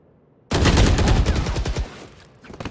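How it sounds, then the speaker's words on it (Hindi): Rapid automatic gunfire from the video game Valorant bursts in loudly after a brief silence, rattling in quick succession for over a second before thinning into a few scattered shots. "गोलियां मार रहे हैं भाई."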